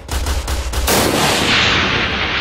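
Gunfire in a Roblox shooter game: a few quick sharp shots at the start, then a loud sustained burst of rapid automatic fire with heavy noise trailing off, no talk.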